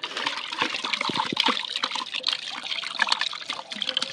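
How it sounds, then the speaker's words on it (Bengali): Water splashes and churns continuously as live fish are released into a pond, a busy close-up sloshing and trickling with no talk over it. "তো পুকুরে মাছ ছাড়া হবে, মাছগুলো দেখো সাইজ"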